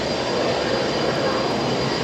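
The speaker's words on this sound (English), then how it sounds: "There's the Jetstar 78 heading off" A Jetstar 787 jet takes off at Brisbane Airport, giving a steady, broad roar that holds at even loudness throughout, heard from a distance with no talk over it.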